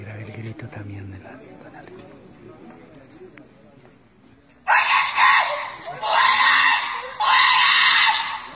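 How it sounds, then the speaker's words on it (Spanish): Screams inside an empty, abandoned building: after a quiet, murmuring stretch, three loud, harsh bursts come in close succession. "Déjelo ir grabando para que grabe el grito también de la..."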